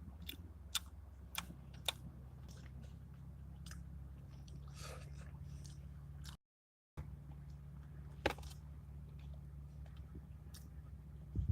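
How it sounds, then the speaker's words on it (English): Close, quiet chewing of a cheesesteak inside a car, with sharp intermittent crunches and clicks over a low background hum, with a brief dropout midway. "Can you hear me chewing?"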